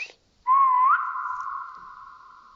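A player's character whistles in the Roblox game 3008: one loud, clear, sustained whistle that rises slightly, then holds steady and slowly fades, alone against near silence.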